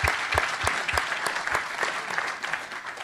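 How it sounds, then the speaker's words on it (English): An audience in a library claps throughout a book event, a dense continuous patter with a few heavier thumps mixed in near the start. "Everybody, round of applause."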